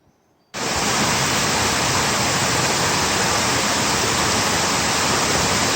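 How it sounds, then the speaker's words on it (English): Setrock Creek Falls, a roughly 70-foot multi-level slide waterfall in Pisgah National Forest running high, cuts in after a brief near-silence and then roars as a loud, constant broadband rush. "Setrock Creek Falls"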